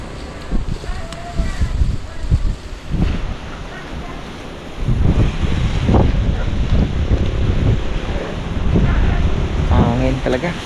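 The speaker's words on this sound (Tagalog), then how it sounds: "Hangin talaga." Strong wind gusts across an open farm field where sweet potatoes grow, roaring and buffeting the microphone in loud surges, with people talking over it at times.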